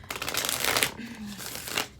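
Tarot cards being shuffled by hand: brisk riffling and papery crinkling in quick bursts, close and fairly loud, with no voices over it.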